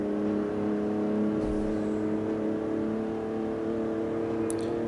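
BMW M46 engine in CarX Street, held at high revs in second gear near top speed, a steady layered drone with strong harmonic hum running unbroken throughout, loud and close with no talking.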